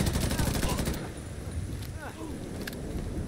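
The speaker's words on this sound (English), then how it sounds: "I'm still hearing gunfire" Gunfire in The Division 2, a rapid burst of automatic shots up front that drops off after a second, followed by scattered distant shots and rumbling ambience, with faint voices underneath.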